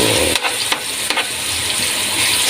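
Ground meat sizzles hard with chopped bottle gourd (upo) in a hot pan, a loud, steady frying hiss broken by a few scraping stirs near the start, with no one talking.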